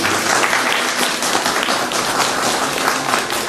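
Steady, dense applause from a crowd at the opening ceremony of the new railway station in Malbork, held by PKP, sustained and fairly loud for the full few seconds with no voices over it.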